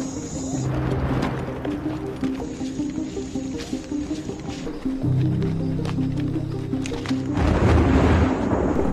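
Heavy rain pours down in a forest while deep thunder rumbles roll in, one near the start and a louder one toward the end, over a constant dense wash of rainfall.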